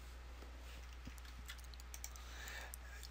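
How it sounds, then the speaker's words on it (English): Typing on a computer keyboard at a desk, a few quick light keystrokes in a short cluster over a steady low hum, fairly faint and close. "I'm just going to go ahead and type hi right there."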